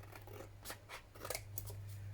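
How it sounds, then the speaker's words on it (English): Scissors snip through a postcard in a few quiet, close cuts, with soft scratchy strokes and no talking. "So let's cut this way."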